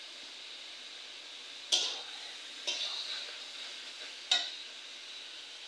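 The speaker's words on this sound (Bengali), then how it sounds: "সবজিটাকে একটু সুন্দর করে কষিয়ে নিতে হবে, নেড়ে চিড়ে খুব ভালো করে।" Potatoes, long beans and eggplant are fried in a pan with a quiet, low sizzle, broken by three distinct scraping strokes of a spatula stirring them.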